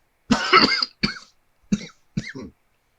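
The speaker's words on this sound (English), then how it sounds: "my cough is getting to me" Four coughs in a row, one long harsh burst followed by three shorter ones, close and fairly loud with short pauses between.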